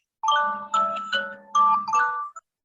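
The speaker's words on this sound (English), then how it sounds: "I'm ringing the bell." A short, bright chime rings out in a quick run of tones, clear and close, then stops.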